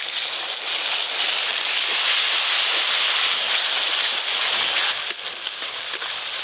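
Mustard paste and its rinse water are added to a hot pan of spiced oil for a river chela fish curry. A loud, continuous hissing sizzle runs throughout and eases slightly near the end.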